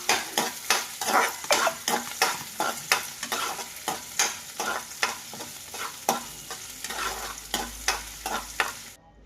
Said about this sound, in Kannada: ಇದು ಹಸಿ ಸ್ಮೆಲ್ ಹೋಗೋರಿಗೆ ಫ್ರೈ ಮಾಡಬೇಕು